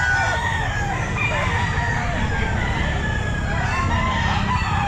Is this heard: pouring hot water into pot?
no